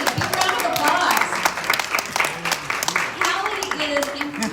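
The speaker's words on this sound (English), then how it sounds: "Big round of applause." A live audience applauds a psychic being introduced at a community gathering, steady broadband clapping filling the room for several seconds, with voices and cheering mixed in underneath.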